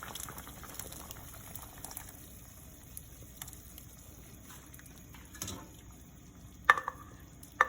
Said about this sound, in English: you're just going to pour it into the meat once it starts boiling